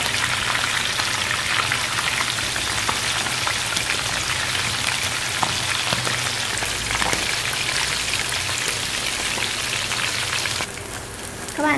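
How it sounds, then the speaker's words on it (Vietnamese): Pork belly sizzles and crackles steadily in hot oil, a dense, continuous spitting sound close by, easing slightly near the end. "Các bạn chiên cho đến khi miếng thịt vàng đều tất cả các mặt là được."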